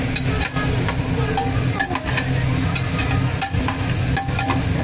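Food mixed in a cooking pan at home, a loud, dense run of scraping and clattering strokes with frying sizzle underneath, close up with no talking.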